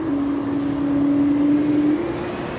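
Pratt & Whitney engines on a United Airlines Boeing 777 spooling up at LAX, heard as a steady roar with a sustained tonal whine that holds and then eases. No voices.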